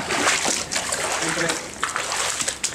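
Walking through shallow stream water in an underground watercourse of the Lura, with loud continuous splashing and sloshing close by and a burst of footfalls toward the end, while people talk over it.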